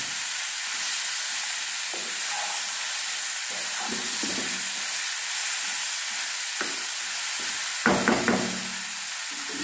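Cashews and raisins sizzle steadily in a hot frying pan. A spatula stirs them with scattered knocks and scrapes, including a quick double clatter toward the end, all close up with no talking.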